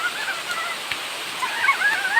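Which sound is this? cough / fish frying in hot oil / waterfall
waterfall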